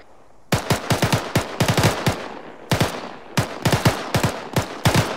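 Machine gun fire in the military video game Arma 3, loud close bursts of rapid automatic shots in several groups with short gaps, echoing tails between them.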